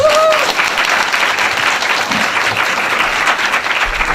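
Sustained audience applause at a Korean welfare and economics lecture, a dense, steady wash of clapping throughout with a brief voice at the start.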